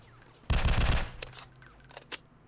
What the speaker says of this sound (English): Why did it shoot three more even though I had no ammo?